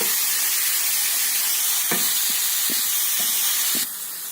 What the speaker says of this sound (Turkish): Eti tencereye koyduğumuzda bu cızırtıyı duymanız gerekiyor